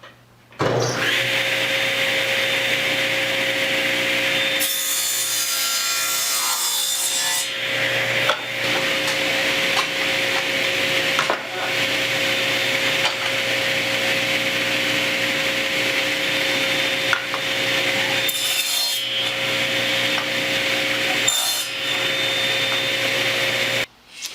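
Power saw cutting wood cleats for frame rests on a two-frame mating nuc beehive box, a loud steady whine running almost unbroken for over twenty seconds with a few brief dips and bursts.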